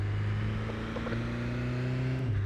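A small car driven in the Garry's Mod video game, its steady engine drone humming with a slight pitch shift partway through, continuous and fairly close, with no talk over it.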